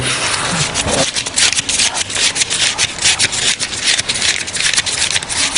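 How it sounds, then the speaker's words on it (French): Banknotes counted by hand in a neighbouring office during a cash deal, a dense, continuous papery rustle and flicking with quick repeated riffles, fairly close and steady, with no talking. "Ce bruit des billets que compte Alexandre dans le bureau voisin le confirme"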